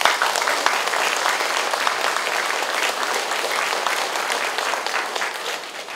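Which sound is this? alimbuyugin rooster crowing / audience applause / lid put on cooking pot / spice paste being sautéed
audience applause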